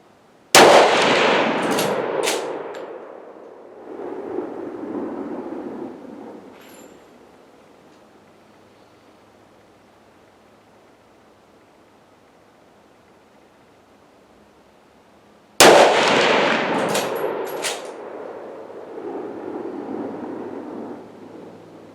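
Two loud, close rifle shots from a No5 Mk1 Jungle Carbine fired off bags at a 100-meter range, each a sharp crack followed by a rolling echo that fades over several seconds, with a long quiet gap between them.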